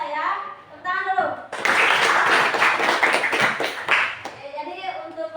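A classroom of pupils breaks into brisk applause for about three seconds, many hands clapping close by, with children's voices talking just before and after.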